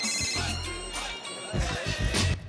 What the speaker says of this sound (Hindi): लगता है मेरा ही फोन बज रहा है